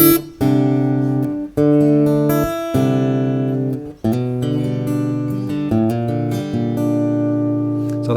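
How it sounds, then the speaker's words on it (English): A Takamine acoustic guitar amplified through its under-saddle pickup alone, strummed chords ringing out loud and bright, with several brief pauses between chord changes and no voices. "that's the sound of the Takamine on its own"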